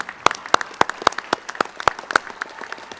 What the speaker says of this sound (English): one last round of applause for the team